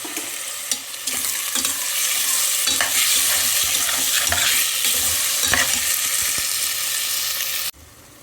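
Ginger, garlic, cardamom, cinnamon, clove powder, coriander, mint, green chillies and tomato sizzle steadily in a pan while being stirred, with a few scraping stir strokes over a continuous fry that cuts off near the end.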